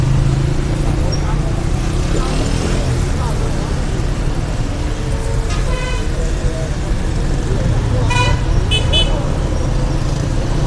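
Government cars of an official convoy arriving on a busy road, traffic rumbling steadily with a few short horn toots in the second half, people talking over the noise.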